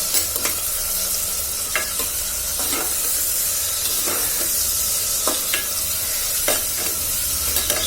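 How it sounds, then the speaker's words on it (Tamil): Mutton pieces fry with salt in a hot pan for biryani, giving a bright continuous sizzle and hiss, broken by periodic scraping strokes of a spatula stirring the meat, close up and alone. "ஸோ இது நல்லா அந்த சைடு ஃப்ரை ஆகட்டும்"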